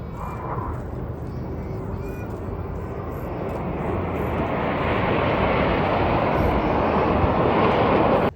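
Red Arrows Hawk T Mk2 jets fly in formation at an air show at Bournemouth, a broad, loud engine roar that swells steadily as they approach, with an announcer speaking over it.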